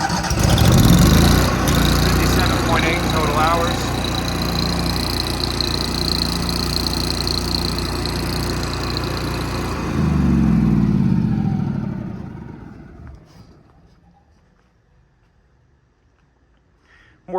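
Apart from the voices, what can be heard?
Bobcat 250 welder engine running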